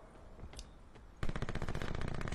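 Rapid automatic gunfire in Call of Duty Black Ops 4, a fast, loud burst of shots that starts abruptly midway after quieter game ambience.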